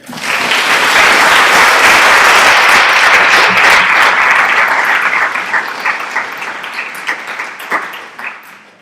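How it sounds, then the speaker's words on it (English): Audience applause after a peace-building dialogue session, a loud sustained wash of clapping that holds steady for several seconds before thinning into scattered claps and fading out. "give them a round of applause"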